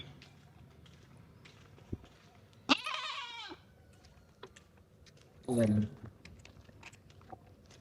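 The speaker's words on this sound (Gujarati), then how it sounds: "વાહ બકરી વાહ." A goat bleats twice outdoors near a house, two loud wavering cries a few seconds apart, with scattered hoof clatter and someone speaking briefly around them.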